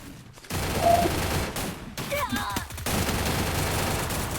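Gunfire rattles in the mobile shooter Free Fire during a ranked Clash Squad match, a dense, loud continuous fusillade that drops out briefly and resumes, with a voice speaking faintly underneath.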